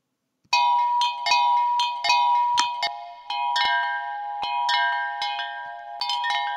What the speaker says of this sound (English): The basic sound that I have loaded in right now is just a wind chime sound